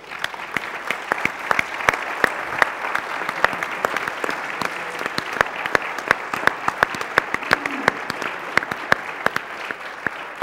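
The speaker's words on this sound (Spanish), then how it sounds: "querría pedir un aplauso también para ellos" An audience at a public session on bullfighting and public authorities applauds, with sharp, distinct claps from individual hands over a steady bed of crowd clapping lasting about ten seconds.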